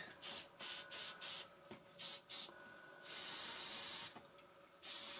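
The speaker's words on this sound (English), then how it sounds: "Screws could do with the spray." An aerosol can sprays screws during a crash repair, in a series of short hissing bursts, then one longer spray and a final burst, close and crisp.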